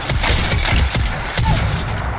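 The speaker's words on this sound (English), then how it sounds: "the 30-30 rifle actually has a pretty decent fire." A 30-30 Repeater rifle fires in Apex Legends, several sharp loud gunshots in quick succession over a dense background of in-game noise.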